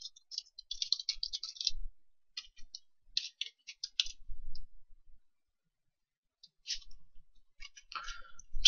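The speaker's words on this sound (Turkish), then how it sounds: "Ben buraya kendi adresimi yazayım." Someone types on a computer keyboard in quick bursts of light clicking keystrokes, separated by short pauses, close and fairly quiet.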